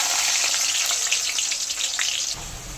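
Onions frying in hot oil with whole garam masala spices and a bay leaf, a steady loud sizzle that runs unbroken and then drops into a lower rumble near the end, with no voices.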